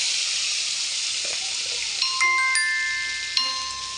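Chopped onion and tomato with whole cumin seeds sizzling in hot oil, a bright steady frying hiss with a few clinks and faint tones partway through, close and with no one speaking.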